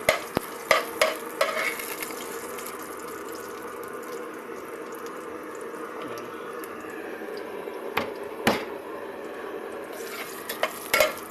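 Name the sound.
garlic being sautéed in a pot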